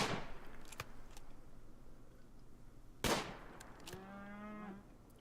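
A person imitates a cow mooing aggressively, a drawn-out, lowing moo near the end, heard close and fairly loud after a sharp bang and some scattered noise.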